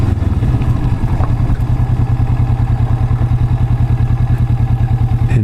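A Kawasaki Vulcan S motorcycle engine drones steadily at highway speed, a loud, rhythmic low pulsing with road rumble and clatter throughout.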